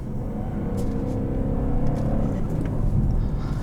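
A 2021 BMW 540i M Sport in Sport Plus mode gives a deep, steady engine rumble with a slight rise in revs, close and loud, with no talking over it.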